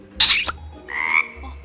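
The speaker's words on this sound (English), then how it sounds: "Of course it's a frog." A frog croaks twice up close, first a sharp raspy call and then a softer, longer croak, with nothing else around.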